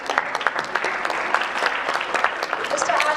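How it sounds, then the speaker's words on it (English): Loud, crisp applause from a corporate summit audience greeting a newly introduced speaker, many hands clapping densely and evenly throughout, with a faint voice mixed in near the end. "Huge round of applause."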